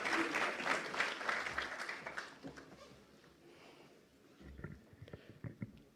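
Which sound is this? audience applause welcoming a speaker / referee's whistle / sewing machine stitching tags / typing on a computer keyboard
audience applause welcoming a speaker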